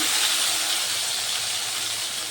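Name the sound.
frying ginger and green chilli paste in oil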